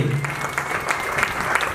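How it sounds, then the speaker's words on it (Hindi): Audience clapping inside a Jain temple during a Dashlakshan sermon gathering, a steady wash of many hands at moderate loudness with a low hum beneath, brief and continuous. "हमारे बीच में एक बार ताली बजाइए।"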